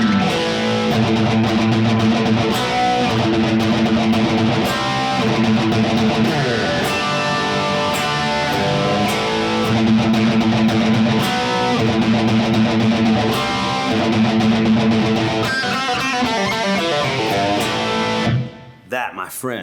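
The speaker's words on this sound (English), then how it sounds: "the whole lick played nice and slow is going to sound like this." A classic lick played slowly on a distorted electric guitar, steady sustained notes running continuously and loud for most of the stretch, with no talking over it, before breaking off near the end.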